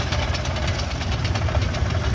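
A Caterpillar diesel tractor with rubber-padded cleats runs close by at a steady, rumbling idle with a low knocking pulse throughout, heard alone without voices.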